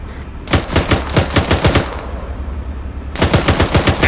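Rapid automatic gunfire in the Arma 3 video game, two loud bursts of evenly spaced shots separated by a short quieter gap, with no talking.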